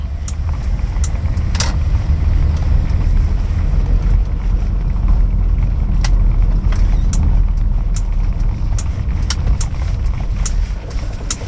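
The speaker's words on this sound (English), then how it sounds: "just enjoy the indicator noise and this lovely little green indicator light" The turn indicator of a 1970 Datsun Cedric G130 Super Six ticks with faint, fairly regular clicks inside the cabin while driving, over a loud steady drone of engine and road noise.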